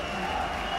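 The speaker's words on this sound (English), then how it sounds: "the home supporters are appreciating a nice piece of work. They're also clapping away" Home supporters clap in a steady wash of applause at a U23 European judo championship, spread evenly through a large hall with the crowd noise close and continuous.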